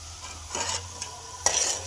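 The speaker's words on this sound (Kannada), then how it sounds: "ಮೊದಲು ಶೇಂಗಾ ಕರ್ದಿಟ್ಕೋಬೇಕು ನೋಡ್ರಿ ಚಂದಾಗ ಎಣ್ಣೆಯಾಗ. ಸ್ವಲ್ಪ ಉದ್ದಿನಬೇಳೆ ಸೇರ್ಸಾತೀನಿ." Peanuts and urad dal frying in hot oil give a soft steady sizzle, broken by a few brief scraping stirs close up.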